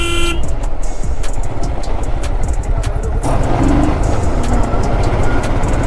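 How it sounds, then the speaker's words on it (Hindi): Vehicle horns toot repeatedly in stalled road traffic, several short honks standing out over a constant loud rumble of engines and wind noise from a moving motorcycle. "पता नहीं है किस चीज़ का ट्रैफिक लगा हुआ है"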